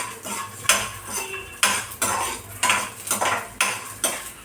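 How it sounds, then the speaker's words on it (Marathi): Peanuts, grated coconut and garlic dry-roasting in a pan for a chutney, with a spatula scraping and clattering against the metal in repeated strokes, close and fairly loud, with no talking. "तर शेंगदाणे खोबरं लसूण पण छान कलर येईपर्यंत भाजायचं असा रेड रेड होईपर्यंत"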